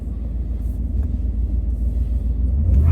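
An 805 HP truck in Sport +1 mode pulls away as a deep low engine rumble that swells steadily louder toward the end, heard from inside the cab without talking.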